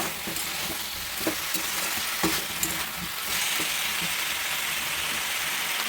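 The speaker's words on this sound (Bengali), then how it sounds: "এবার আমি দিয়ে দিচ্ছি মাছ আর কাঁচা লঙ্কা একসাথে এটা দিয়ে আমি একটু নেড়ে ফেলে নেব" Bottle gourd greens with fish and green chili are stirred in a pan, with repeated scraping spatula strokes over a constant close sizzle of frying.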